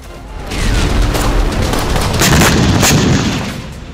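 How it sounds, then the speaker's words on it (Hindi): Heavy blasts from a bomb attack on military positions in the Russia–Ukraine war, a loud sustained roar of explosions and gunfire-like booms rumbling over about four seconds, with sharper cracks near the end. "रूसी सेना ने यूक्रेनी ठिकानों पर फ्लेयर्स बम से हमला बोला है"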